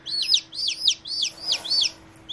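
A newly hatching chick breaking out of its egg gives a rapid series of high, sharp chirps, about six in quick succession, close and clear over faint background hum.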